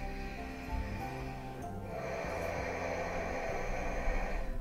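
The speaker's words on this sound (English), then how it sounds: "If you're familiar with the Ujjayi breath, which is a meditative, audible breath" A slow, breathy hiss of ujjayi breathing, a long audible exhale through a narrowed throat, rising into a soft ocean-like rush with a hum underneath.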